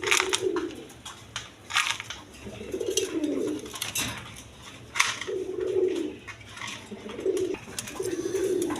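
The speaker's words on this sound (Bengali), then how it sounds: "এখানে এক পেয়ার হাই ফেলাং গিরিবাস কবুতর আছে দেখেন" A pair of high-flying Giribaz pigeons at a farm give repeated low, rolling coos, several separate calls spaced a second or two apart, close by and steady, with faint clatter in the background.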